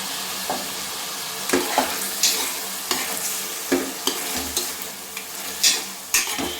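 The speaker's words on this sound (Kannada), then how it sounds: "ಹಿಂಗೆ ಮಿಕ್ಸ್ ಮಾಡಿಬಿಟ್ಟು" A spoon stirs tomato bath with salt and turmeric in a hot pan, giving repeated scraping strokes at an uneven rhythm over a continuous close sizzle.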